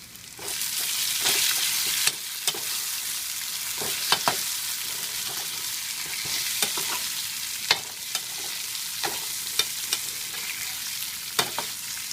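Raw banana slices sauté in hot oil with garlic, giving a steady close sizzle broken by frequent sharp scrapes and clicks of a stirring spoon against the pan, with no voices.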